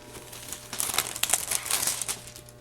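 Thermoweb watercolour foil pulled from a small envelope, giving close, loud crinkling and rustling in irregular bursts that build after a quiet start, with no talking.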